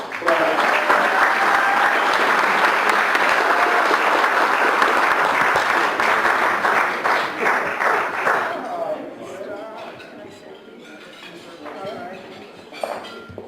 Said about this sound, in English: Please, let's have another round of applause